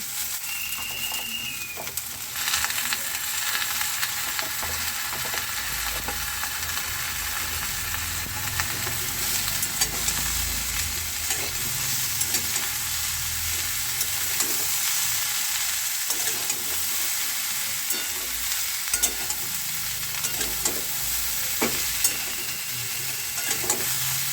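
Jackfruit seeds and vegetable stalks fry in a pan with a steady close sizzle, while a spoon stirs them in frequent soft scrapes and knocks throughout.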